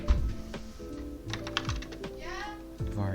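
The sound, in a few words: typing code on a computer keyboard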